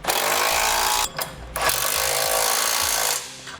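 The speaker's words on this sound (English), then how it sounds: "Now we'll tighten our hardware" A power impact tool tightens bolts and nuts, with Loctite and lock washers, while installing a Roadmaster crossbar-style tow base plate on a vehicle. It gives loud, harsh hammering bursts: a long run, a brief pause, then another sustained burst.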